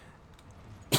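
A single sharp cough close to the microphone near the end, after quiet low video game background sound from a Resistance 3 play session.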